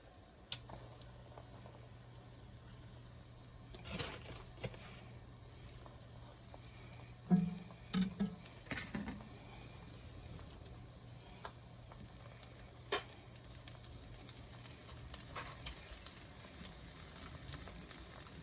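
Tortillas fry in a pan with a soft, continuous sizzle, broken by a few brief clatters and knocks of utensils near the middle. The frying grows slightly brighter toward the end.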